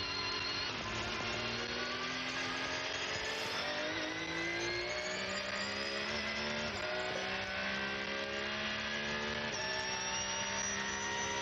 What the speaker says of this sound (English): Just listening to that Porsche engine purring across the line.